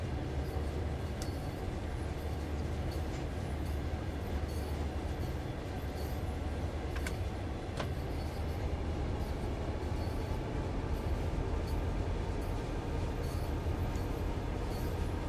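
Train in the Train Sim game, a Clinchfield Railroad F7 locomotive pulling a caboose, rumbling steadily with a low engine drone, rolling rail noise and a few faint clicks and squeals.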